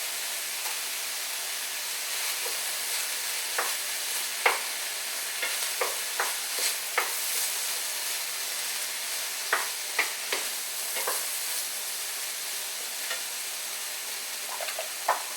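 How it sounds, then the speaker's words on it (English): Vegetables sizzling in a frying pan under a steady, soft hiss, with scattered light taps and scrapes as a utensil stirs them, close and moderate in level. "Over to my veggies, give them another quick little stir."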